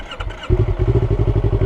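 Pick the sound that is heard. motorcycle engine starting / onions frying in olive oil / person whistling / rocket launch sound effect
motorcycle engine starting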